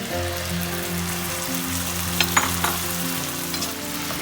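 Tomato and onion paste sizzles steadily in a hot pan with green chillies for a Bengali pointed gourd yogurt curry, with a continuous frying crackle, a few brief stirring clatters near the middle, and no talking.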